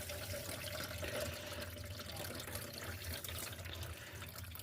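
Water pouring in to fill an aquarium, a steady, low gushing and trickling stream that runs continuously and fairly quietly, with no voices.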